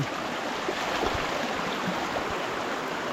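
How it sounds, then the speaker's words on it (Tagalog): A strong, rain-swollen stream rushes by in a steady, loud broadband roar, continuous and close, with no voices over it. "Biglang lakas po ang ating tubig oh."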